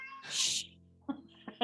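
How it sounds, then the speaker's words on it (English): A house cat screams with a loud, drawn-out meow up close, then lets out two or three shorter, quieter cries after a brief pause. "pardon my cat screaming"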